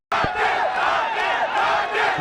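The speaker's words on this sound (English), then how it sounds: "those in attendance are just cheering every single run as if it's a massive event" A cricket stadium crowd at a Nepal Premier League match between Biratnagar Kings and Janakpur Bolts roars and cheers a run, a dense, loud, sustained wall of voices starting abruptly.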